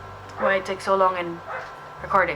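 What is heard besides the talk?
dogs barking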